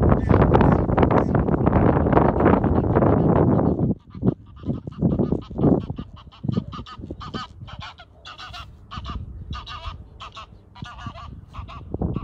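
Ducks and geese at a natural reservoir in an old quarry honk loudly and continuously as they take flight, with wind buffeting the microphone, then the calls thin out into scattered, more distant honks.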